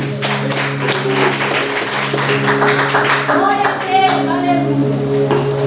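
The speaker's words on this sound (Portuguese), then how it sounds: "Dá uma salva de palmas para Jesus." A church congregation claps and cheers for Jesus during a sermon, steady crowded clapping over sustained musical tones and raised voices, loud and continuous throughout.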